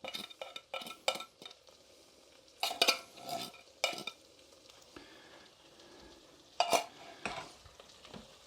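Beans being stirred in a Trangia camping pan, with scraping and clinking of the utensil against the metal in separate bursts over a faint sizzle, close up and without talk.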